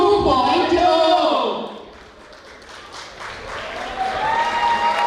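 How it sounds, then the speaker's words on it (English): An audience at a college anniversary celebration claps in a loud burst with music and voices, the sound dipping to a quieter patch before swelling again with renewed applause and cheering. "Give a huge round of applause"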